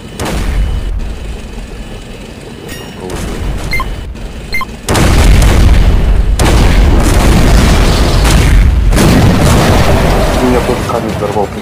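Explosions in a defense-style strategy video game sound as loud booms and deep rumbling blasts, growing into a dense, sustained barrage in the second half, with players talking over the noise.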